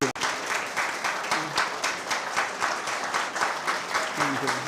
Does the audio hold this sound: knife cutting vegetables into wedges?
no